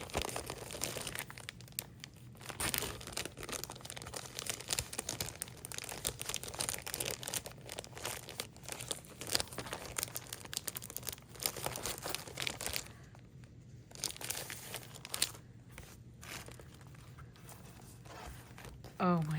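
Paper and plastic wrapping of a craft supply parcel crinkle and rustle in steady handling, close by, with brief tearing bursts and a person talking over it.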